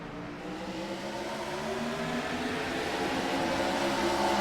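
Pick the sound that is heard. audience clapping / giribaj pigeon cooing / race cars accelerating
race cars accelerating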